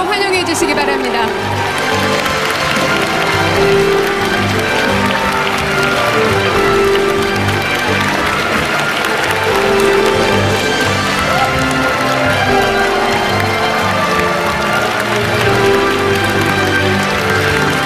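A big crowd at an outdoor event marking Moon Jae-in's first 100 days in office keeps up warm, continuous applause for the president, broad and loud, with voices and music underneath.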